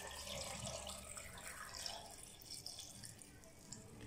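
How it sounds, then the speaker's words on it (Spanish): Half a litre of water pours into a blender while making atole de masa, a faint, steady splashing trickle that runs for several seconds with no speech. "Y aquí voy a estar colocando entonces el medio litro restante de agua."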